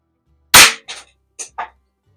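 A Weihrauch HW50S spring air rifle fires with one sharp crack, followed by three quick metallic clanks as the pellet strikes a spinning reset target that flips around, all close and loud against silence.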